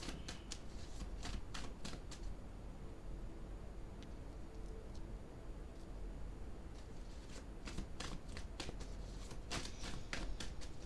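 Tarot cards being shuffled by hand, a run of quick soft riffling bursts and flutters, repeated in clusters, fairly close and quiet with no talking.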